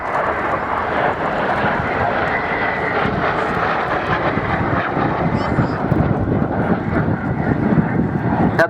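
Folland Gnat jet aircraft flying at the Culdrose 2015 air display, a loud continuous engine roar with wind buffeting throughout, while someone talks over it.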